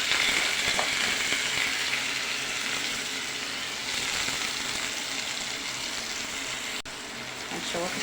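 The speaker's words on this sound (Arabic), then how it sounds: "هنشوحه شويه كده في معلقه السمنه" Washed rice frying in a spoonful of ghee in a pot, a steady moderate sizzle with occasional soft stirring scrapes and no talking.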